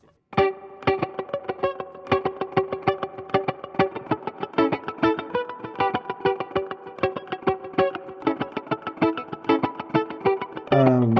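Rapid rhythmic guitar chords through a Fender Tone Master amp's ping-pong delay repeat with echoing delay, each strum followed by bouncing repeats that build into a pulsing, distorted pattern, loud and close.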